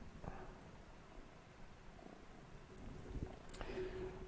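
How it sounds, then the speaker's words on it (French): A cat sitting on a computer keyboard purrs softly, a faint low rhythmic rumble with a few small clicks and rustles, quiet and close with no voices. "le chat qui est sur le clavier"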